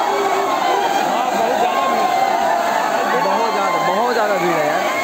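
Large crowd of tourists at Kakolat waterfall in Bihar, a dense, steady wash of many overlapping voices chattering and calling out, loud and continuous throughout with no single voice standing apart.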